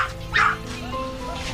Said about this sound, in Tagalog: Ayan, mga aso po.